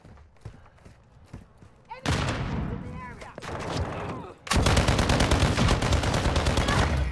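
Video game gunfire in dense broadband bursts: a loud volley erupts around two seconds, then a heavier, sustained barrage of rapid shots and booms fills the rest of the clip, with faint thuds before it and no clear talk.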